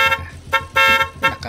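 A car horn honks in several short toots, loud and close: a brief blast, another, a longer held honk, then a final toot, with no talk.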